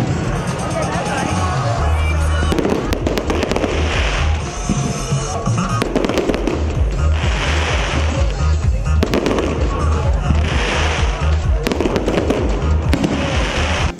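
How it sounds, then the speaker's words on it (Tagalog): Rapid bursts of exploding fireworks crackle and boom repeatedly over a murmuring crowd at a lantern event in Pampanga, loud and continuous throughout. "Kasunod ng pagtatanghal ng mga parol ang fireworks display."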